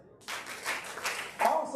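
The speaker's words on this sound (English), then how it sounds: "Clap 4 times if you are a Miramar resident." An audience at a Chamber of Commerce expo claps in a few short bursts of scattered hand claps, moderately close, with a brief surge of louder clapping near the end and no talking.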